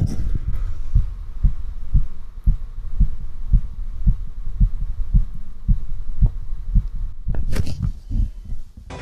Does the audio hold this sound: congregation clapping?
no